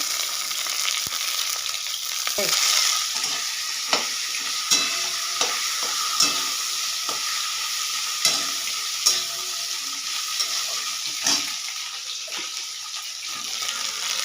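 Katla fish head frying in oil with onion and garlic, a steady close sizzle punctuated by intermittent stirring knocks and scrapes at irregular intervals.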